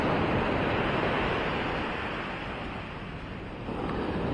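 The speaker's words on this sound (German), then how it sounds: "eine Stimmung mit der heranbrechenden Welle" Surf breaking on the beach at Maspalomas, Gran Canaria, heard as a steady broadband wash of waves that dips slightly in the middle. Wind noise mixes into it, and no voices are present.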